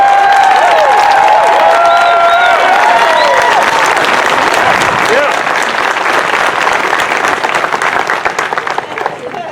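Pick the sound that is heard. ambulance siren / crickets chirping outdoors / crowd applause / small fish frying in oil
crowd applause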